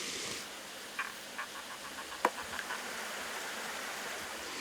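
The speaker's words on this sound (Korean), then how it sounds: "어우 맹꽁이가 맹맹맹맹 하고 우네요 옆에서" Narrow-mouthed toads calling beside a pond at a valley-type reservoir, a few faint, short repeated croaks spaced irregularly over a soft steady wash of water and ambient noise.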